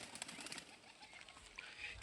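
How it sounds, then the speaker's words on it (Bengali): Male pigeons coo softly at a distance, a few low murmuring calls under faint background noise. "তিনটাই ছেলে কবুতর তিনটাই নর কবুতর"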